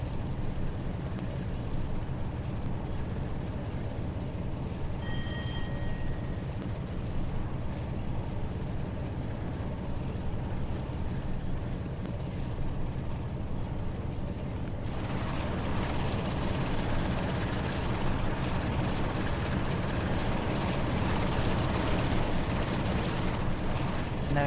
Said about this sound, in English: There we go guys, there's some engine sound for you.